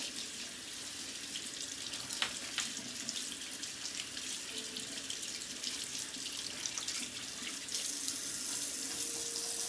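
A bathroom tap runs steadily as a makeup brush is rinsed under it, a close continuous hiss of water with slight splashing changes, no voices.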